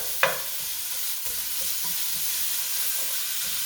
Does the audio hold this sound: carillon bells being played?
no